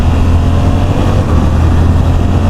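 A Suzuki V-Strom 800 DE adventure motorcycle rides in fifth gear at low revs, its engine giving a loud, steady, close drone mixed with wind rush and no talking.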